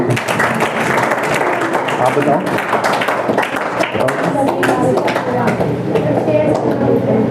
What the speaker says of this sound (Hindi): बहुत बढ़िया, बहुत ताली बजाओ